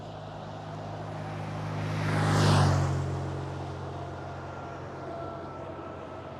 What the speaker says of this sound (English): KLM City Hopper E175 rolling out.